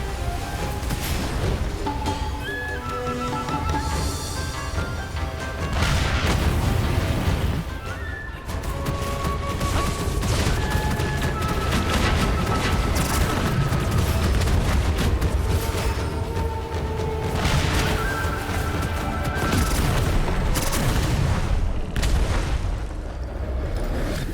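Cannon fire in the shooter game Gunfire Reborn: loud booms and crashes inside a dense, constant wash of battle noise, with no voices.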